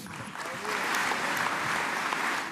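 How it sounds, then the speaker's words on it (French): A hall audience applauds the French president during a 2017 speech on local government funding, a dense steady wash of clapping that swells after a quieter start, with a voice faintly underneath. "Une partie de la salle applaudit le président de la République quand l'autre répond par des huées."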